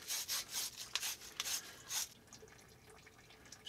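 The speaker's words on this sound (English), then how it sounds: "Obviously we're cleaning our T now. 3/4 pipe, so we're using a 3/4 pipe cleaner." A pipe-cleaner brush scours the inside of a 3/4-inch copper tee fitting in several quick, scratchy rasping strokes. The scrubbing is faint and close, then fades to near quiet.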